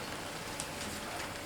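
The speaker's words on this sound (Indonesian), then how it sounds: "Di luar hujan rintik-rintik" Light drizzle falls outside, a soft, steady, even patter of fine raindrops with no talk over it, faint and continuous throughout.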